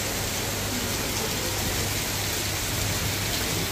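Heavy storm rain pours down steadily and loudly outdoors in Murree, a constant dense hiss of water with a low hum beneath and no voices.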